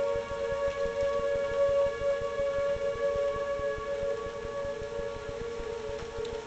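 Outdoor tornado warning sirens in Tulsa, Oklahoma during severe weather, a steady sustained multi-tone wail that rises and falls slightly as the rotating horns sweep, continuous and fairly distant across the whole stretch with no talk.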